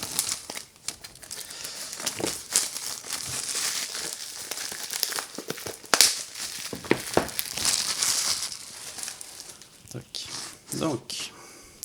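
Packaging for an Insta360 One X2 camera, with lens guard and lens cap, is unwrapped close up. Loud, continuous crinkling and tearing of plastic and paper comes in bursts, with sharper rips around the middle.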